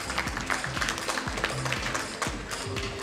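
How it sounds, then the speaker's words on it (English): Audience applause at a business conference session, a dense patter of many hands clapping steadily throughout, fairly loud, with music-like tones and some talk beneath it. "keep the applause going as we welcome our esteemed panelists for this session"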